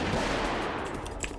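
A small bomb in the video game Final Exam goes off in a quick burst of small explosive pops and crackles, loud and close, fading slightly over a second or so.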